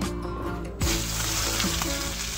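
Chopped onions hit hot oil in a pan already sizzling with a red chili tempering for a Mumbai street-food usal, giving a sudden loud crackling hiss that settles into steady frying, close and with no talking.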